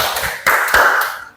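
A short run of hand claps in a classroom clapping game: several quick, crisp slaps, some soft and some sharper, close together over about a second, then fading out, with no talk.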